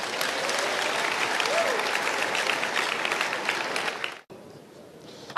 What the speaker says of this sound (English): Oh, clap for Jesus.